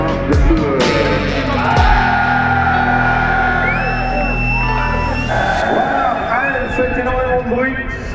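Loud, dense crowd roar with shouts, whoops and cheering at the start of a 24-hour motorcycle endurance race, steady throughout with engines and a PA voice mixed in.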